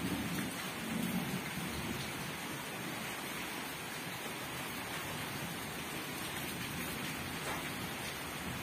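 Steady rain falling outside a home during a thunderstorm, a continuous dense hiss of drops on surfaces, fairly faint and unbroken, with no talking.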